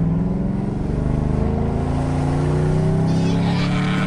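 A Maserati's engine revs and rumbles up close from inside the car, a loud, steady growl with rising pitch as it accelerates, no music playing.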